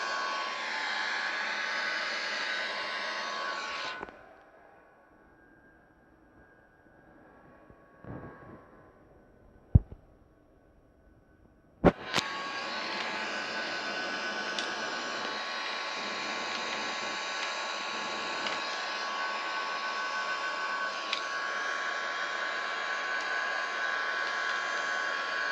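Airbus A330 jet engines in Microsoft Flight Simulator, a steady broad roar that cuts out for several seconds with a few clicks, then resumes just as strong and holds to the end.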